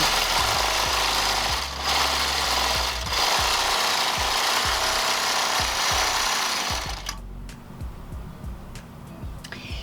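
A longarm quilting machine runs steadily after its thread tension is loosened slightly, a loud continuous mechanical chatter with a rapid stitching pulse that stops near the end, leaving quieter background noise.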